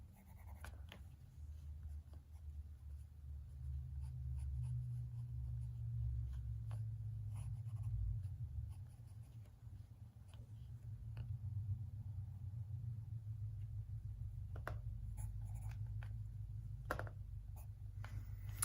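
A pencil draws on paper with an unsharpened tip, making soft, repeated scratching strokes over a low, steady background rumble.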